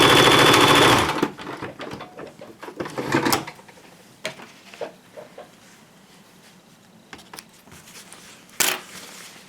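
A sewing machine stitches thin lining fabric in a loud burst at the start, then stops, followed by scattered clicks, taps and handling knocks.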